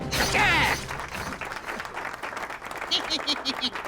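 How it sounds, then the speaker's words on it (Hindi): Applause from a colony gathering in a Hindi comedy scene, a brief burst of clapping at the start that fades under background chatter and voices, with a few light clattering knocks later. "तालियां।"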